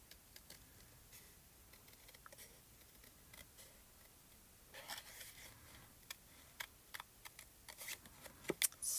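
Small Spellbinders scissors snipping paper, faint close-up ticking cuts that start sparse and become more frequent and crisp toward the end, over a quiet room with no speech.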